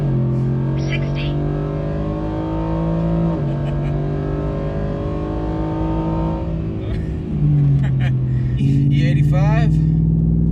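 Car on an E85 tune accelerating hard, its engine roaring loudly with a rising whine and distinct gear changes, while a person talks over the engine noise.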